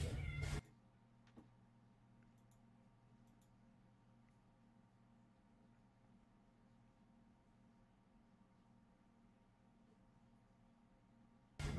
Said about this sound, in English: these are kitties